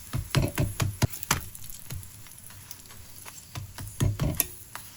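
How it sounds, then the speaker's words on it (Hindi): Paratha roasting on a griddle at home, soft sizzling underneath a series of sharp taps and scrapes as it is pressed and flipped, quiet and close with no talking. "अब इसके बाद बस नॉर्मल पराठे की तरह मैं सेक रही हूँ"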